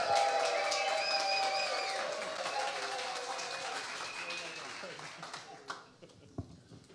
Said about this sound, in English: never been welcomed by a cheer before